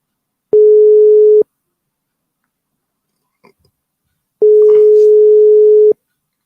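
Two steady electronic telephone tones, each lasting about a second, separated by a few seconds of near silence with a faint click between them, heard while placing a call.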